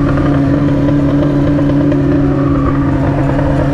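An XJ6 motorcycle idles on a beach trip, its engine and exhaust giving a loud, close, continuous burbling drone with steady low tones and faint clatter, and no voices over it.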